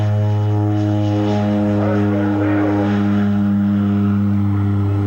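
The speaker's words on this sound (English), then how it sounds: "this is a stall takeoff. It's short field takeoff, full power." A propeller airplane at full power for a short field takeoff at an airport air show, its loud, steady, close engine drone and propeller hum holding throughout.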